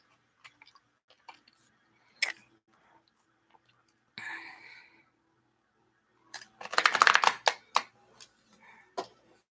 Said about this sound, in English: I'm almost finished shuffling the cards.